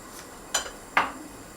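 A metal lid set onto a cooking pot while fish cooks with salt, onion and pepper, giving two quick, faint metallic clinks in close succession against a quiet background.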